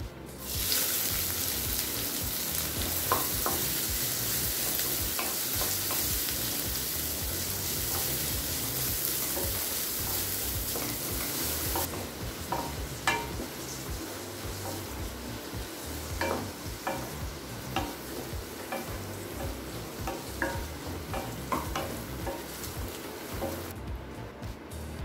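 Chopped onions sizzling and frying steadily in hot oil with cumin, a constant crackling hiss with occasional stirring scrapes, close and continuous.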